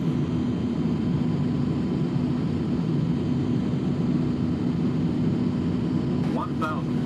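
Steady, loud engine drone from a Boeing B-47 Stratojet jet bomber in Flight Simulator X, flying low on a flaps-down landing approach, a continuous roar throughout with a brief chirping alert near the end.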